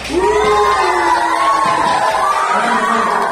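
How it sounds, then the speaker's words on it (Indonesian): Classroom audience doing a rhythmic stadium clap together, with shouting and cheering voices rising over it, loud and brief. "berikan dulu tepuk stadion untuk kita semua"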